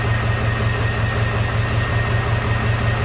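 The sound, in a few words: 2001 Ford F550 7.3 engine running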